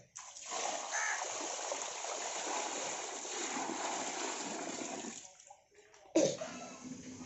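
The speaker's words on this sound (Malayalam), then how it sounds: "ഇനി ഇതിലേക്ക് വെള്ളം നിറച്ച് നമുക്ക് മീനുകളെ ഇടാം." Water pouring into a newly built guppy pond, a continuous splashing rush for about five seconds that drops away, then a brief sharp splash near the end.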